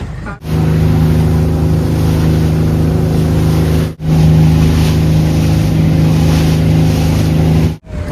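A motorboat engine drones loud and close with a steady low hum as the boat arrives at Krabi beach in Thailand. Brief dips break the drone twice.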